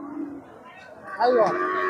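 A Sahiwal cow at a busy cattle market in Joypurhat lets out one loud, close moo in the second half, over a low murmur of the crowd.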